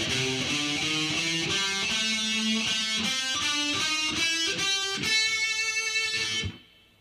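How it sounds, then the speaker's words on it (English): A distorted heavy metal electric guitar plays the pentatonic minor blues scale note by note in an even rhythm, loud and unaccompanied, ending with an abrupt stop. "The next one is the pentatonic minor blues scale"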